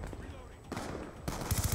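Gunfire from the Black Ops 2 video game on the Nuketown map, bursts of shots that grow louder in the second half, with a rapid run of sharp reports near the end; voices talk over the action.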